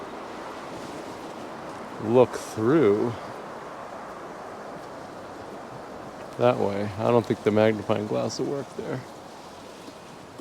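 Constant low rush of road traffic beside a highway, steady throughout behind someone talking in two short bursts.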